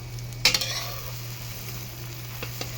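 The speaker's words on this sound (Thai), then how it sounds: "ก็ให้ไข่สุกซะหน่อยนะครับเนาะเพราะว่าเราทอด ใส่ผักกับเพื่อน ให้ผักสุกซะหน่อย" Eggs and vegetables frying in a pan for a Thai omelette give a steady, soft sizzle. A sharp clink near the start and a few faint taps later rise above it, and nobody speaks.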